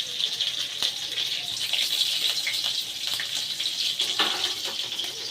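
Black mustard seeds and green chillies frying in hot oil, giving a steady close-up crackling sizzle with scattered sharp pops all the way through.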